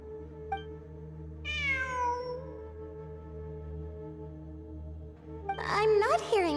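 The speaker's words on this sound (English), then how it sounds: "It really is a cat." A cat meows in the video game Genshin Impact, with a drawn-out descending meow early and a burst of several quick meows near the end, over a low steady ambient game hum.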